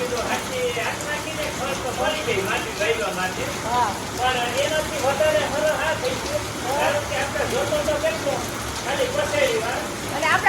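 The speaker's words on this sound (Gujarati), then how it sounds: "વરસાદ ચાલુ થઈ ગયો છે" Steady heavy rain patters on a surface throughout, while voices talk over it for most of the time.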